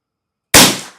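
A Savage Mk II FV-SR rifle fires a single sharp, loud shot after silence, a crisp crack with a short decaying tail and no talking.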